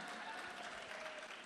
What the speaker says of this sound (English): There's the clapping.